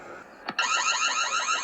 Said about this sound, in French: Et là, je vais allumer la sirène d'alarme.